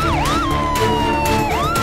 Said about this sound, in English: The animal ambulance came very quickly with its team.